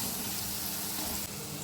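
Turmeric, chili powder and coriander powder frying in a pan for a Bengali-style breakfast dish, giving a steady, close hiss of sizzling with no talk.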